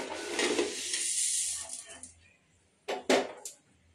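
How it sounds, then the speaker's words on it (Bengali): Two cups of sugar pour into a pan to start rasgulla syrup, a grainy rushing hiss for about a second and a half, followed by a few sharp clinks and knocks of the pan and utensils. "এখানে 2 কাপ চিনি দিচ্ছি"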